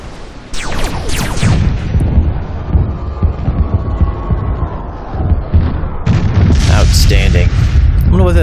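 Deep booming blasts from a spaceship exploding in Master of Orion space combat, with a cluster of sharp bursts near the start and another rumbling burst toward the end, loud and layered over a low throbbing bed, with some talking.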